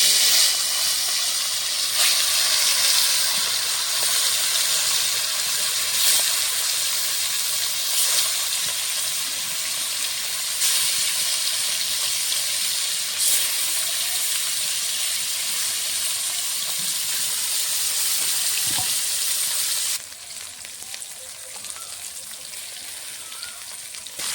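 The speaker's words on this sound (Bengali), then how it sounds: "কড়াইতে আমি মাছ ভাজার জন্য সরষের তেল দিয়েছি।" Catla fish pieces frying in mustard oil in a wok, a loud continuous hissing sizzle close by that drops in level near the end.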